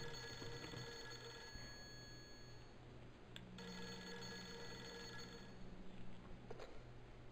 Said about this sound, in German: Oh, Telefon schon wieder.